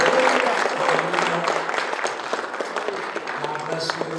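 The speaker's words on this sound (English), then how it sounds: "let's give him one more great big clap of offering and praise his name" A congregation claps in praise at the close of a Shabbat service, a dense, fairly loud wash of applause mixed with voices and shouts, fading slightly over four seconds.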